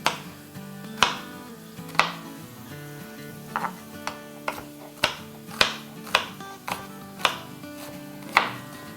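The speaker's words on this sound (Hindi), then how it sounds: "अब हमारे पास बेल पेपर है, इसको काट लेते हैं। इसको भी आप डाइस कर लें।" A knife dices bell pepper on a cutting board, sharp distinct chops landing roughly every half second to second, close and clear over a quiet background.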